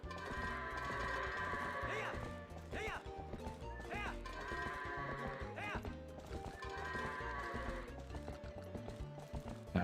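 Goats bleat while being herded in Zelda: Twilight Princess, with repeated clopping hooves from a horse and overlapping game sounds at a moderate, continuous level.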